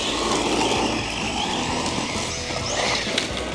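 An Arrma Senton 3S BLX RC truck with a 3200 kV brushless motor drives at about half throttle, its loud, continuous whine and rushing tire noise sustained close to the listener.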